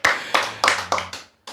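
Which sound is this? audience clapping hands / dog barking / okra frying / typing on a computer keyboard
audience clapping hands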